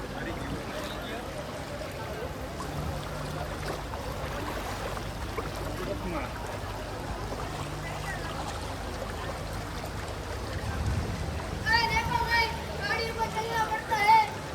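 Floodwater flows through flooded Surat streets as a continuous rushing wash, steady and moderately loud, with people talking over it and a louder stretch near the end.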